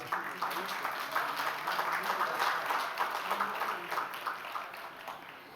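An audience applauds at a Hindi youth poetry competition award ceremony, honouring an award-winning young poet. Dense, steady clapping from a sizeable crowd fills the room at an even level for about six seconds, with no break and no clear voice over it.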